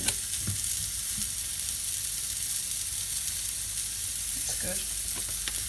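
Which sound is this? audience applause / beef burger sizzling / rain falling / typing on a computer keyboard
beef burger sizzling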